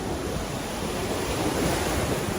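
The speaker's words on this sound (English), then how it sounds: "let me show you the tides. Look how high the tides are." High, choppy tide rolling onto a beach, a steady broadband wash of surf with light wind noise on the microphone, continuous and fairly close with no talking.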